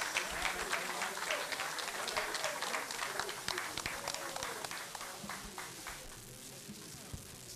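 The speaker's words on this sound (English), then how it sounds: "WINE deserves another big round of applause." A crowd at an outdoor live event gives sustained applause, dense and fairly distant, thinning toward the end with scattered claps and background murmur.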